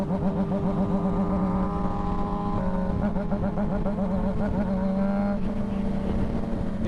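A two-stroke motorcycle engine with an aftermarket tune drones steadily and loudly throughout, its pitch wavering as the throttle rises and falls, with voices talking over it on a road cruise.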